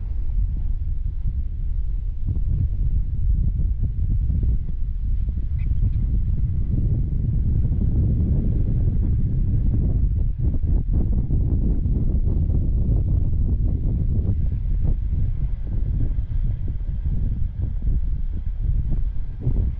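Steady wind buffeting a sailboat on a close reach at about six knots with one reef in the main, a continuous low roar with gusty rumbles, no voices.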